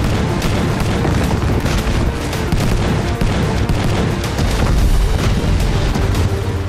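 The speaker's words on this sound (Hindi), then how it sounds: "ड्रैगन की गरजती तोपें बारूदी बवंडर ला रही हैं।" Chinese army artillery guns fire in a rapid barrage among snowy peaks near Lhasa, Tibet, a dense, continuous rumble of booms and cracks, loud and sustained with no pauses.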